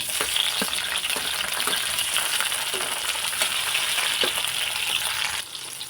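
Tomatoes frying in a pan for a chutney, a loud, steady sizzle with occasional stirring scrapes up close, easing off slightly at the very end.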